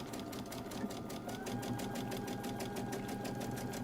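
A sewing machine stitches a seam in a fabric face mask with a fast, even, continuous run of needle strokes, close and steady for the whole stretch.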